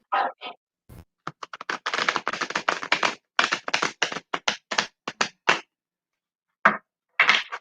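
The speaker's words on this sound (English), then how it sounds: "All I have to do is shuffle the cards and put them in order" Deck of cards being shuffled, a series of crisp riffling bursts and sharp flicks, close and clear, in irregular clusters separated by brief pauses, with no talking.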